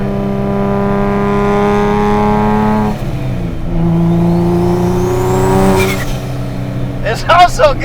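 A boosted Nissan NISMO engine pulls hard through the gears from inside the car, loud and steady, with a gear change midway and a voice talking over the climb.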